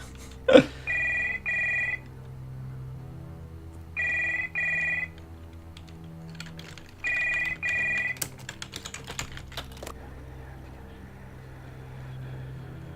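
An old desk telephone in the horror game Stories Untold rings in three paired bursts of bright trilling bells, separated by pauses, followed by scattered keyboard typing taps.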